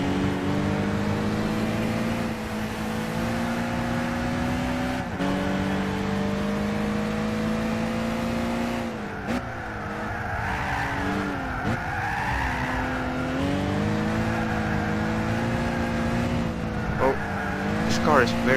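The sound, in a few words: race car driving in video game Gran Turismo 6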